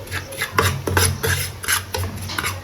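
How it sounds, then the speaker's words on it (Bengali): Semolina roasting in hot ghee in a pan, stirred with a utensil: repeated close scraping and rasping strokes in an uneven rhythm, with a soft sizzle underneath and no talk. "সুজিটা দিয়ে ভেজে নেব ভালো করে, একটু সুন্দর করে রোস্ট করতে হবে।"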